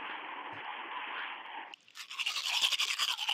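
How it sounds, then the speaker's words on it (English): Toothbrush bristles brushing: a steady scrubbing hiss at first, then after a short break a brighter, rapid rhythmic scraping, close and fairly loud with no voices. "Toothbrush."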